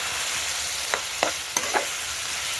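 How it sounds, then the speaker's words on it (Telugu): Chicken curry frying in a pot over a wood-fire stove hisses in a constant sizzle while a few distinct scrapes of a spoon stir it, close up and without talk. "ఒకసారి అయితే చికెన్ తిప్పుకుందాం చూడండి"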